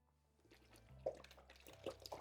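Water trickles and splashes faintly into a container, with a few small drips and plops and no talking.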